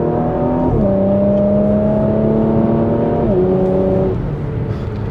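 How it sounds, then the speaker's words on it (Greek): A Porsche engine hums steadily with shifting revs, its pitch stepping up and down through gear changes, with exhaust popping off throttle, loud and close throughout. "Δυνατά φρένα, σκάσιμο από την εξάπηση, την ώρα που έχεις αφήσει το πόδι από τον γκάζι."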